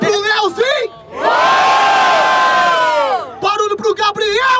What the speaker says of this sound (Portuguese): Ó, família, grita pra um só, por favor, mano! Barulho pro Leozinho!